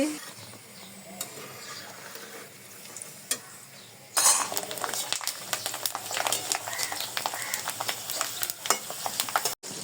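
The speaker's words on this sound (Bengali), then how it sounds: "এখানে মাছ ভাজা হচ্ছে আমার আমার দিদি মাছ ভাজা করছে" Fish frying in a pan in a home kitchen, with a low background murmur that gives way after about four seconds to a loud, steady crackling sizzle with occasional sharp clatters.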